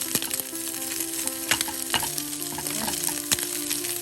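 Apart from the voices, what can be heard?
chicken liver browning in a frying pan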